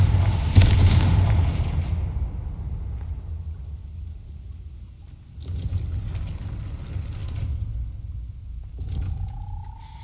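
A Confringo fire spell from Hogwarts Legacy erupts in a loud booming blast near the start, its rumble decaying over a few seconds, with a second heavy burst at about five seconds and further rumbling after.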